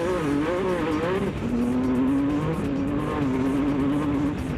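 A buggy engine is held at full throttle, revving hard and loud close by, its pitch wavering up and down as it drives along a track.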